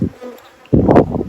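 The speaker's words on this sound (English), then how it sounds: "all the bees are clustered inside" Honeybees buzz up close during a hive inspection, a faint hum that surges into a loud, dense swarm drone as the frames are worked.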